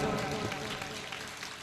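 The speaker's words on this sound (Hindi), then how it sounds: "पूरा सदन एक बार जोरदार तालियां उठा" Loud applause from the audience fills a Hindi comic poetry gathering at a Jain Panchkalyanak festival in Shakarpur, with steady, dense clapping throughout.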